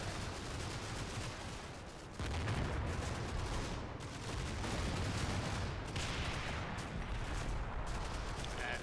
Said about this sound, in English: we got some mortar just went off there